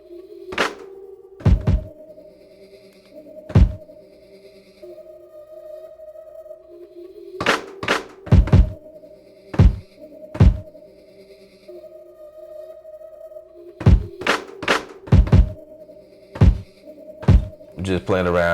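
Punchy kick drum samples played on Maschine hit one after another in irregular groups over a low sustained tone, close and clear.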